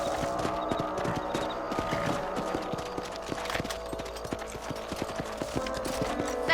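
Horse hooves gallop steadily in the Red Dead Redemption video game, a rapid, even clip-clop rhythm that continues at close range and holds steady throughout without any voices.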